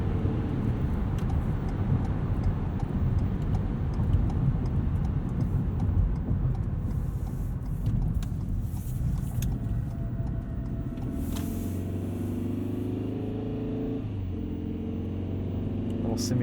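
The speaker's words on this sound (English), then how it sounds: "Let's put us into sport mode and see how this does a 0 to 60." A 2022 Ford Maverick Hybrid XLT accelerating hard from a stop in sport mode, steady broadband road and engine rumble from inside the cab, with a lower tone setting in near the end.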